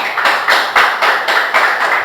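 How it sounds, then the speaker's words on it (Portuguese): A church congregation claps in rhythm for Jesus during a sermon, loud, close and steady with regular pulsing beats throughout. "Pode dar um aplauso ao Senhor Jesus?"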